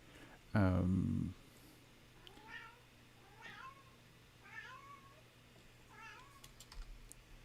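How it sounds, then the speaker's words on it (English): Cats meow repeatedly, about four drawn-out cries spaced a second apart, fairly faint against a quiet room after a brief loud thump. "Apparently my cats are meowing loudly."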